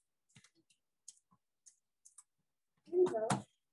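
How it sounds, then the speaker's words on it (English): Fast password entry on a computer keyboard: a handful of quick, light key clicks spaced irregularly, then a short burst of speech near the end. "that's not the right password because I typed it too fast"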